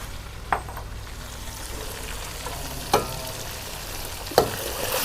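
A medium-sized onion frying in a pan, a soft continuous sizzle with three sharp knocks of a spoon against the pan spread through it.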